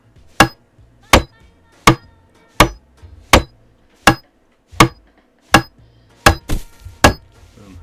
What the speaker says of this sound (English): you want to use a hatchet or a hammer and then build that